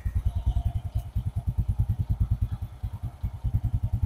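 An old, fully original Honda Revo motorcycle engine runs at a steady idle with close, loud, rhythmic thumping pulses and a faint mechanical clatter.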